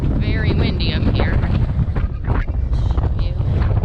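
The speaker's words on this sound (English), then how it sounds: "very windy up here." Strong wind roars across an Adirondack mountain summit near Armstrong Mountain, buffeting the microphone in a loud, continuous rush with gusty swells.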